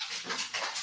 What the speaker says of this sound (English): There's my dog. Yeah. Going wild.